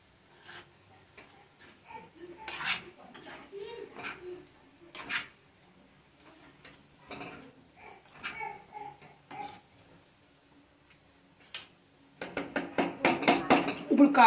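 Spiced potato pieces are stirred in a pan, with intermittent scrapes and rubs of a utensil early on, a quiet stretch, then a burst of rapid clinks and scrapes at the end, all close.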